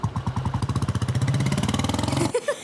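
A motorcycle engine runs close by at idle with a fast, even pulsing thump, then cuts off abruptly near the end as the bike is parked.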